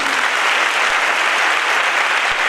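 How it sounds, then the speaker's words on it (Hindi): Loud, continuous applause from an assembled company workforce during a managing director's speech forms an even wash of many hands clapping without a break. "तो आप लोग के लिए जोरदार दिल से ताली"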